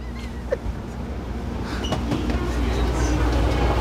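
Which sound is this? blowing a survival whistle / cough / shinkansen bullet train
shinkansen bullet train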